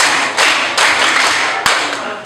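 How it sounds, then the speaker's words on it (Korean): A classroom group claps in unison five times, the sharp, loud claps landing in a slow, even rhythm with short gaps of near quiet between each beat. "자 박수 다섯 번 시작"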